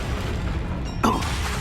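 The Confringo fire spell in Hogwarts Legacy: a single soft boom about two thirds of the way in, rising briefly out of steady game ambience, with no talk.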